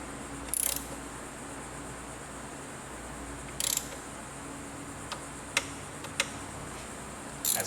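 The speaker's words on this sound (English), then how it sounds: "This is an inch-pound torque wrench" An inch-pound torque wrench tightens the intake manifold bolts on a 2000 Lincoln Town Car with a 4.6L engine. A few sharp metallic clicks are spaced several seconds apart over a quiet background, with faint ticking between them.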